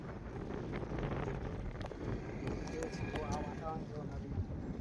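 Strong wind near the Narmada river buffets the microphone in a steady, loud rumble that lasts throughout, with people talking faintly underneath.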